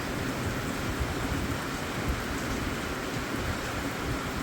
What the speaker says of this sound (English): They can sit and watch the rain today.